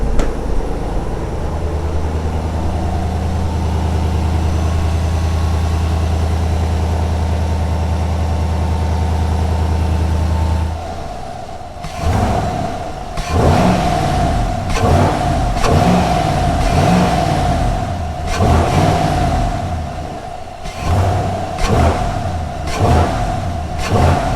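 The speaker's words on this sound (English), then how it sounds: "That exhaust is so loud, it's hard to hear anything else," A 2020 Chevrolet Silverado Trail Boss engine drones steadily, then loud exhaust revs burst out in repeated sharp, throaty surges, close and dominating.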